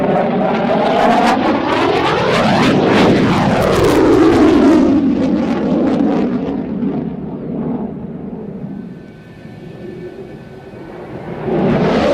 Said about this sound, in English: back to the loud fast jet action